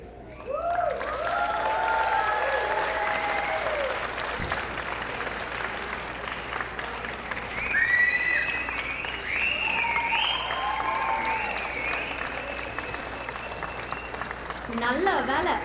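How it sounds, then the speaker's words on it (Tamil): Sustained applause from a studio audience after a Tamil comedy skit, steady and loud for the whole stretch, with a few audible voices and shouts rising over the clapping. "இன்னொரு பலத்தை கைத்தட்டல் கொடுப்போமா?"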